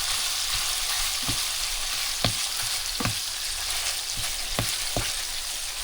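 Ground beef browning in a pan, sizzling steadily up close, with a series of sharp spatula taps and scrapes at irregular intervals.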